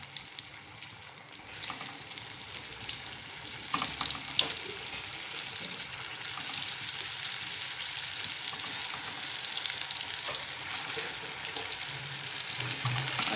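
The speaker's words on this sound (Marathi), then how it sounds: "अवळूच्या वड्या मी तळण्यासाठी तेलामध्ये सोडत आहे तेल चांगलं तापलेलं आहे" Colocasia leaf rolls deep-fry in hot oil with a steady, soft crackling sizzle that holds throughout, broken by a few light knocks and clinks of a utensil early on, and no one speaks.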